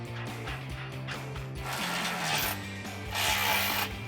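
Nuts and washers go onto front bumper bolts on a 2007-2018 Jeep Wrangler JK, heard as close, rhythmic metallic ratcheting clicks in quick bursts with a steady mechanical whir, no voices.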